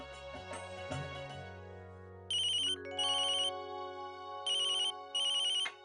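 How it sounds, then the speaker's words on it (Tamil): A telephone ringtone sounds in a home scene, a melodic electronic tune followed by two pairs of bright, steady ringing bursts, loud and close with no talk over it. "நான் வந்தனாக்கு ஃபோன் பண்ணி கேக்குறேன்"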